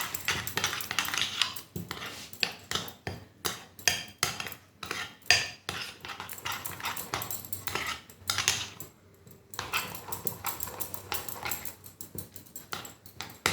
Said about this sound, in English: Mix it properly so that no lumps are being formed up.